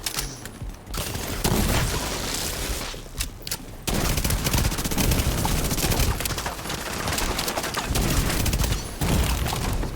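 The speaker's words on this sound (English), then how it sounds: "So the explosion did a lot of damage there." Explosion followed by dense, sustained gunfire in the shooter video game The Division 2, loud and nearly continuous with brief gaps, no talk over it.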